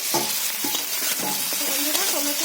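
Tomato and potato frying in a pan for a fish curry, a steady loud sizzle with spatula scrapes and stirring clatter over it, close and continuous.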